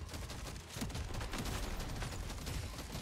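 Rapid continuous gunfire from the video game Deep Rock Galactic Survivor, a dense rattling fusillade of overlapping shots at constant loudness, with no speech.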